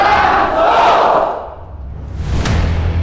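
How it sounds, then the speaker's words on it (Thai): Large crowd at the Buriram Marathon in Thailand gives a loud, sustained roar of cheering and applause that swells and then fades, with a sharp burst of noise near the end. "ปรบมือให้กับตัวเองครับ"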